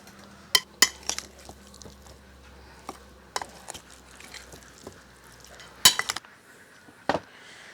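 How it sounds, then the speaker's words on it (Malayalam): Chicken pieces being mixed with masala and lemon juice in a bowl for pulao, giving scattered clinks and scrapes of a utensil against the dish, with a few sharper knocks and no talking. "ഇനി ഇത് നമുക്ക് നല്ലപോലെ മിക്സ് ചെയ്ത് കൊടുക്കാം, എല്ലാ ചിക്കൻ്റെ പീസിലും മസാലയൊക്കെ ആവുന്ന രൂപത്തിൽ."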